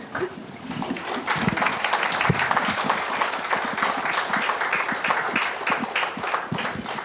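Applause from an audience at a skills conference honouring World Skill Competition winners, steady dense clapping that holds for several seconds at close range.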